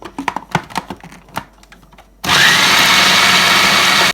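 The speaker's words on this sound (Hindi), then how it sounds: "अब हमने दाल को चॉप कर लेना है।" Electric chopper grinding soaked lentils (dal): a few light taps and knocks, then an abrupt, loud, steady motor whir with blades churning, running continuously for nearly two seconds before stopping.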